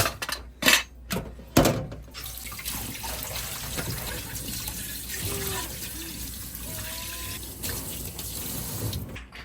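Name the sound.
rinsing dishes under running water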